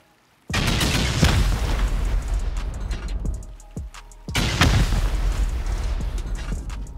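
Rocket explosions pound a base during a raid in a survival video game on a shallow island: a loud, sustained barrage of booming blasts and crumbling debris, a brief lull, then another heavy burst of explosions.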